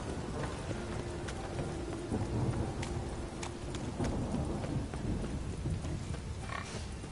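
Steady rain and low rumbles of thunder in The Witcher 3: Wild Hunt, with faint clip-clop of a horse's hooves under the downpour, all fairly quiet and continuous without talk.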